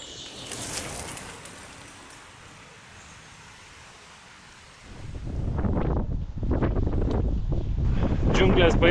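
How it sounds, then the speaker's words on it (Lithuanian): Strong wind buffets the microphone on open plains beside a Scottish canal during a cycling trip, a steady rushing roar that swells louder and gustier after the midpoint, with harsh bursts near the end. "nes plynėse tai vėjai siaučia"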